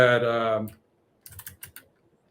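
Typing on a computer keyboard in Vim insert mode: a voice speaks, then a brief burst of four or five quick, close key taps.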